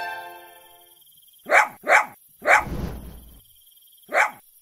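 A cartoon dog barks four times, sharp and fairly close, two quick barks, a third with a brief growl, then one more after a pause.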